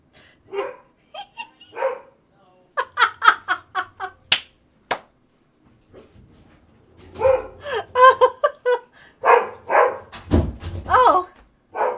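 A dog named Patch gives a few short barks scattered among people talking and yelling in a room, with a sharp knock-like snap in the middle of the exchange.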